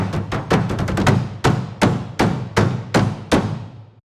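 Punchy, close drum hits play in a fast flurry and then settle into a steady, evenly spaced beat of booming strikes.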